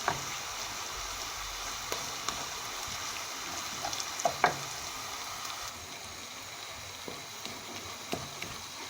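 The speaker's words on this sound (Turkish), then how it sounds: "Onu da şöyle hafif soğanımızla kavuruyorum." Onion fries with tomato and pepper paste in a pan, a steady soft sizzle under occasional sharp clicks and scrapes of a spoon against the pan.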